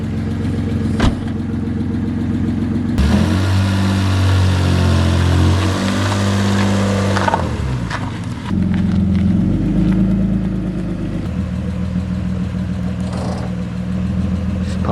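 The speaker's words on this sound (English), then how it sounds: "Rev it up properly then. If you're gonna rev it, rev it." A Mercedes car engine revs in repeated bursts, with a loud rise and fall of mechanical roar in the middle and steadier running and clatter before and after, up close.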